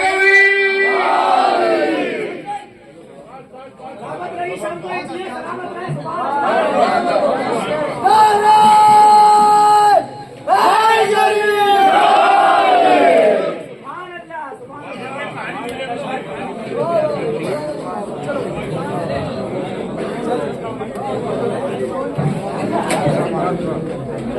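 A large crowd at a Muharram Abbas Day gathering at the Karbala imambada in Bhopal raises a loud chanted slogan in rising collective shouts, with a lead voice calling out amid the massed response.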